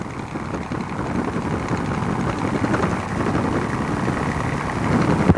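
A Cessna light aircraft's engine during a touch and go, a steady mid-distance droning hum with no voices over it, holding an even level before a slight swell near the end.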